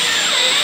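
A power screwdriver drives a screw into a ceiling frame, making a loud, steady, high-pitched whir with no pause for its brief length.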